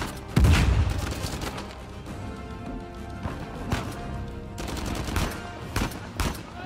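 Dense bursts of gunfire from the Uncharted 4 video game, rapid overlapping shots with sharp cracks and a heavy opening blast, continuing in loud clustered volleys over dense game background noise.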